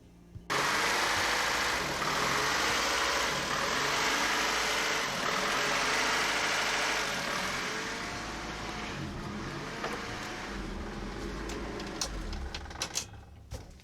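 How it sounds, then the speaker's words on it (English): A 1991 Honda Prelude's B21A engine starts and idles steadily close by, its rough rumble bouncing unevenly, with occasional clicks near the end; a temporary exhaust is fitted. "Well, it runs. Got a bouncy idle I gotta figure out."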